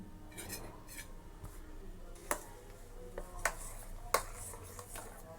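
Egg, milk and pepper powder are stirred together in a pot: a few sharp clinks of a utensil against the metal at scattered moments over quiet clatter and low background noise, with no talk.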